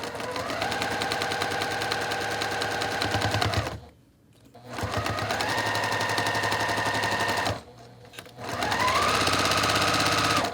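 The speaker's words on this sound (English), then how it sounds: "sew with a 1/4 inch seam all the way down, not cutting my thread" A sewing machine sews a 1/4 inch quilt seam in three loud, rapid whirring runs of needle strokes, broken by two brief pauses, close and without voices.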